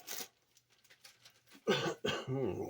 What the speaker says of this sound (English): can't get rid of this damn cough today